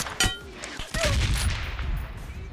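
Gunfire from a first-person shooter video game: a few sharp shots up front, then a dense burst of rapid firing that carries on through the rest, loud and close.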